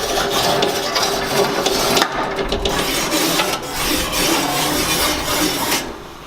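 A scraper rasps steadily across the greasy grill of a Weber barbecue, a loud, continuous close-up scraping with brief strokes and pauses and no talk.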